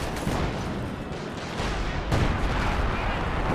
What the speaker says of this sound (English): Yeah, they're calling artillery